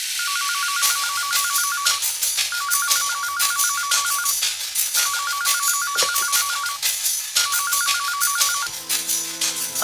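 A telephone rings in four repeated bursts of rapid electronic trilling, loud and close, with a short pause between each.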